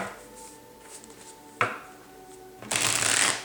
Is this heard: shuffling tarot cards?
yes